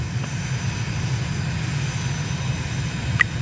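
A light aircraft taxis to general aviation parking at Dushanbe in Microsoft Flight Simulator, its engine a steady low drone that holds constant throughout with a faint brief click near the end.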